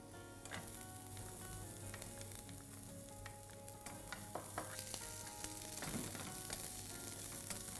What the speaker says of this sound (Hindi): Lightly saute onions and garlic.